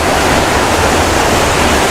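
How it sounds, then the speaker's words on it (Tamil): Water rushing down a hillside path near Badulla like a small stream, with a waterfall close by, giving a loud, dense, unbroken roar of flowing water with no voices. "இப்போ தண்ணி நாங்கள் வர்ற வழி எல்லாமே இப்படி ஓடிக்கொண்டிருக்கு சின்ன நீரோட மாதிரி"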